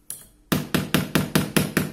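A hammer drives a nail into wood with seven sharp, evenly spaced blows after a faint tap, each strike loud and close with a short ringing decay.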